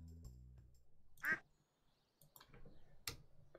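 A Stardew Valley duck quacks in a couple of short, separate calls over quiet game background, with no talking.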